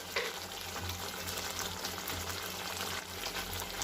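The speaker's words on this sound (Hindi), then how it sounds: "अब इसमें हम पनीर के पीसेस डाल लेते हैं" A steady sizzle and bubbling simmer fills the clip, with faint soft stirring sounds as paneer pieces settle into a hot, thick paneer pasanda gravy.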